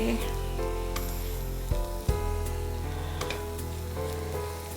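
Spice powders roasting in hot oil in a pan for a Kerala-style nadan chicken roast, a steady close sizzle with a couple of brief clinks of a spoon against the pan.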